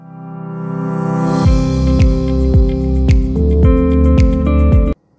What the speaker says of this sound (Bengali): এটা একটা মেসেজ মেশিন।